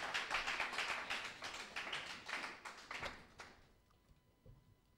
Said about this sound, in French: Let's give him a clap of hand.